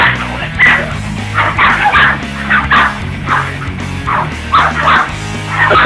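An agitated dog barks in rapid, repeated yips and bow-wows throughout, loud and close, with whimpering mixed in over a busy background.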